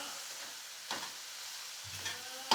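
Vegetables for a sandwich filling sauté in a pan, giving a steady faint sizzle with a couple of soft stirring scrapes and a brief clatter near the end.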